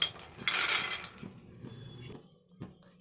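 Makhana (fox nuts) frying in a pan over low flame: a brief rattling, clinking burst near the start, then fainter scattered scrapes and taps of the nuts shifting against the metal.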